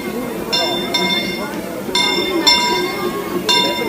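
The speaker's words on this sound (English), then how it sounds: "here comes the train" Disneyland park train arriving at a station, its bell clanging in four or five separate bursts over a busy crowd, while people talk nearby.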